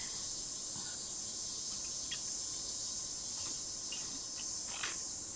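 Cicadas from the video game Hakuoki drone in a steady, high, shimmering chorus with no talking.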